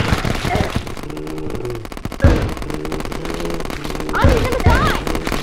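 Rapid gunfire in the game Terraria, bursts of quick shots with a couple of louder blasts, mixed under game music and a voice talking.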